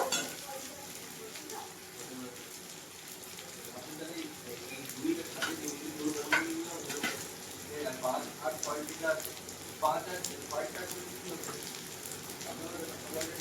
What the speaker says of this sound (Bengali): পেঁয়াজটা দিয়ে খুব সুন্দর করে আমি নেড়ে করে নেব পেঁয়াজটা কিন্তু একটু ভাজা ভাজা করে নেব